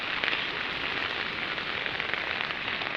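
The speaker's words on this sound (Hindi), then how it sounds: "यहाँ बारिश है" Steady rain drums on a rooftop in Dehradun during a downpour, a dense, even patter that holds close and fairly loud throughout with no voices.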